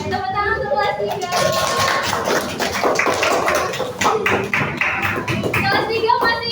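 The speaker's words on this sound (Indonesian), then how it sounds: "Tepuk tangan untuk kelas 3." A classroom of third-grade children claps together in a busy, rhythmic burst of hand claps, with children's voices and chatter mixed in throughout.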